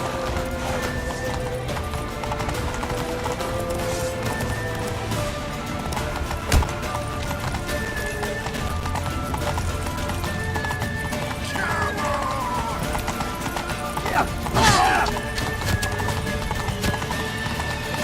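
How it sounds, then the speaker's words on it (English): Horse hooves clip-clopping at a gallop in The Witcher 3, a steady rhythm running throughout with occasional neighs and a brief thwack, under game dialogue and battle noise. "Grab a horse to the temple!"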